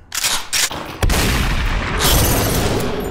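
Loud, close gunfire in the VR game SUPERHOT VR: a few sharp bursts of shots followed by a dense, sustained roar of booming fire with no talk.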